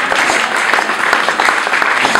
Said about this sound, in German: Könnt ihr euch noch klatschen?